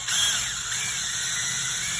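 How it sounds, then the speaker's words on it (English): A power drill runs steadily and close up for about two seconds, pre-drilling a screw hole in a door for an Emtek privacy door knob install, with its whine holding even throughout. "You're just going to drill it out."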